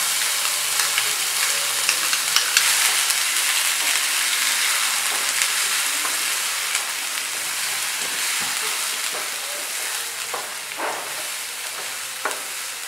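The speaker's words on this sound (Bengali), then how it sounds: "এবার কড়াইশুঁটি বাটাটা এতে দিয়ে দিচ্ছি।" Ground green pea paste for koraishutir kochuri frying in a pan over a cumin and asafoetida tempering, a steady close sizzle with scraping stir strokes throughout, no voices.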